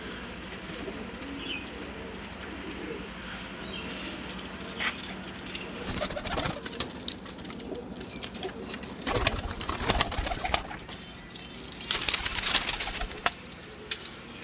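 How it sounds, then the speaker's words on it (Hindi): Pigeons in a loft, soft repeated cooing mixed with rustling and occasional wing flaps, fairly close, with the activity growing busier toward the end. "देखिए कुछ कबूतर मादाओं को भी नर भगा रहे हैं अंडे देने के लिए।"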